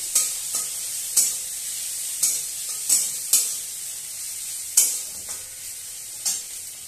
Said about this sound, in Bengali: রসুনটা দিয়েও একবার ভালো করে ভেজে নিচ্ছি